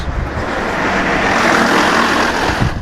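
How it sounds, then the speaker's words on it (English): A bus driving past close by, a loud, broad rushing roar that swells and holds steadily with engine rumble underneath, heard alone without speech. "And there goes the bus."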